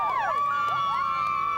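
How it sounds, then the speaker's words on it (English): A celebrity arrival event draws a crowd of fans cheering and screaming, high excited voices overlapping in a sustained, energetic roar. "The crowd has gone wild."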